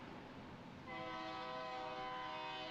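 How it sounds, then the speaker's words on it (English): A train rumbles past on a rainy Route 66 stretch in Kansas, its horn sounding in a long, steady blast over the rolling noise of the cars, fairly close and loud. "A lot of trains, that's cool."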